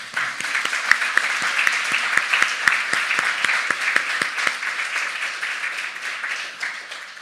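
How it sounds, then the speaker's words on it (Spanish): A church congregation applauds during a service with steady, dense clapping. Sharp claps stand out over a sustained wash of hand noise for several seconds. "Le damos un aplauso al Señor."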